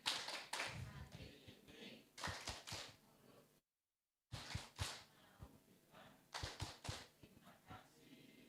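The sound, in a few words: audience thank-you clapping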